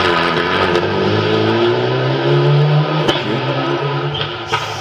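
A rally car accelerating hard toward the finish of a special stage between Tombeau and Vallé at the Rallye des Grands Fonds, its engine a loud, sustained roar rising in pitch and fading slightly near the end.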